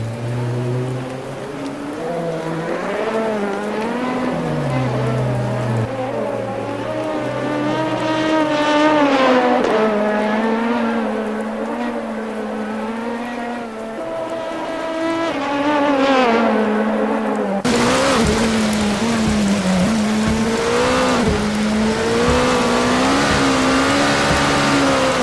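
Race cars lapping the Suzuka circuit in a racing video game, several engines close together producing overlapping high revving whines that rise and fall through gear changes, continuous and loud.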